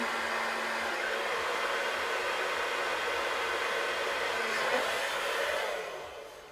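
A hair dryer blows steady, loud, breathy air close by, held on the scalp for several seconds before the sound tapers off near the end.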